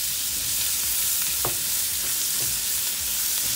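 Langostino lobster with shallots sizzles steadily in a hot pan, a dense continuous frying hiss with a few soft stirring scrapes.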